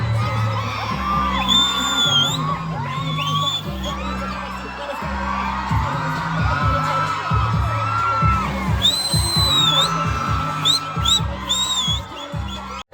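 A crowd packed into a mall event in Pune cheers, whoops and yells, with children shouting and shrill whistles rising over a continuous roar of many voices, loud and close.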